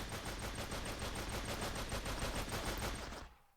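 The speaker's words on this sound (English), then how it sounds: "Then we have this submachine gun here." A submachine gun in a Minecraft mod video game fires one rapid, evenly spaced burst of shots for about three seconds before cutting off abruptly, with no talking.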